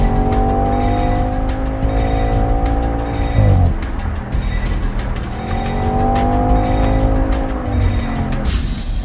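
An Audi RS5 accelerates hard on a rain-soaked road, its engine note climbing steadily, dropping sharply around a gear change, then rising again, with a continuous hiss of tyres on wet pavement beneath.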